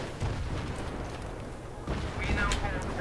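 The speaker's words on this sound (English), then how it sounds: "If there wasn't any fucking explosion going off" Battlefield 3 Conquest gameplay on the Seine Crossing map, with heavy in-game gunfire and explosions rumbling continuously and loudly throughout, including a sharp boom near the end, under a speaking voice.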